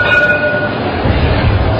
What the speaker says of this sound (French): démarrage des essais techniques du tramway